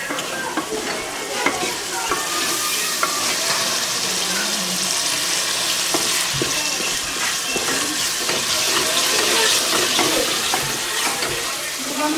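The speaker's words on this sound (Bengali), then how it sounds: "মশলা কষাই কিন্তু আমি এখন মাংসটা দিয়ে দিচ্ছি" Spices sautéing in a pan, with steady frying sizzle and frequent scraping stir strokes throughout, close and fairly loud, with faint water or tap sounds in the background.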